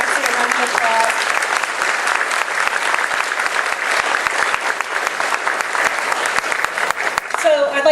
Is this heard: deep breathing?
no